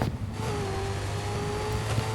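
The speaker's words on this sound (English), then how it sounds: "I'm gonna just floor it right in front of these cars." Car engine in the video game Car Driving School 2017 floored hard past traffic, a steady loud drone holding a sustained pitch, alone without voices.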